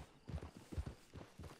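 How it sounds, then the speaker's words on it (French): Horse hooves in Red Dead Online clip-clop in a steady walking rhythm of about four distinct, fairly faint thuds. "Then you better get on this horse."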